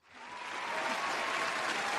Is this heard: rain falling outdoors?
no